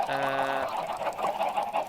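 Chickens in Minecraft cluck in a steady run of short squawks while flowing water pushes them along, with the game's rushing water noise underneath.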